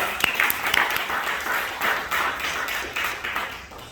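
Applause from a church seminar audience welcoming a pastor to the lecture stage, a dense steady clapping that runs the full length with a few sharper claps near the start, no voices above it.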